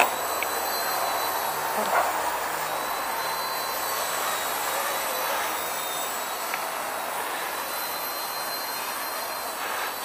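A small Esky 150X RC helicopter flies with a steady, high-pitched rotor and motor whine, fairly faint and continuous for about ten seconds, with no voices.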